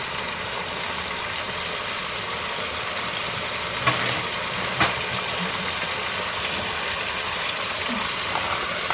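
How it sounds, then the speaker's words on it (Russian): Chicken pieces frying in a pan on a gas stove for tomato chicken soup give a steady close sizzle throughout, with a couple of brief clicks and clatters from the pan. "обжарим со всех сторон"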